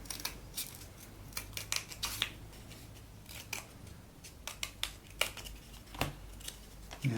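Scissors snipping through paper or card while a crab shape is cut out for a craft, giving a run of crisp, close cuts in quick irregular bursts, alone without speech.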